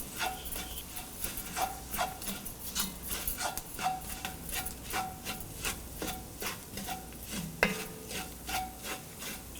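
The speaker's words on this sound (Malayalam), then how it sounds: "മഞ്ഞൾപ്പൊടി, മല്ലിപ്പൊടി, മുളക് പൊടി, ഗരം മസാലപ്പൊടി എന്നിവയെല്ലാം കൂടിയിട്ട് നന്നായിട്ട് മിക്സ് ചെയ്യുക" Turmeric, coriander, chilli and garam masala powders are stirred through a pan for duck mappas, a steady run of soft scraping strokes of spoon against pan, close and fairly quiet with no talk.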